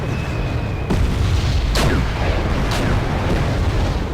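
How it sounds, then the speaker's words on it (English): Booming artillery shots in a tank battle video game, two or three sharp distant blasts rising over a constant rumbling battlefield background. "my teammate who is firing artillery"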